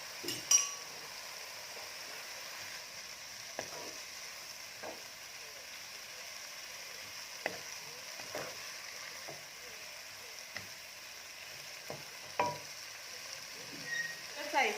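Chinese chives and Shanghai noodles stir-frying in a pan, a soft steady sizzle with sparse scrapes and clinks of a utensil, fairly quiet throughout.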